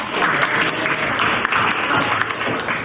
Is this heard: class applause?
yes